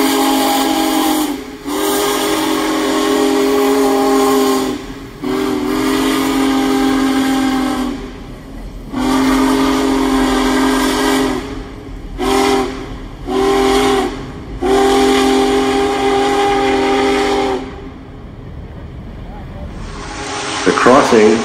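Union Pacific Big Boy steam locomotive whistle in 2019 near Geneva blasts loud and close in long sustained calls broken by short gaps and quick toots, with steam hiss rising at the end.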